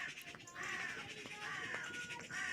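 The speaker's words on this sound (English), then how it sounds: "A lot of bird noise going on right now." Several harsh, crow-like caws repeat at a distance, fairly faint, over a soft outdoor background.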